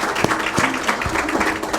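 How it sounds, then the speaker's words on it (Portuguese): Audience applauding athletes at a judo-related sports event, a short burst of scattered, moderately loud clapping with a few distinct claps standing out. "Por favor, palmas para os atletas."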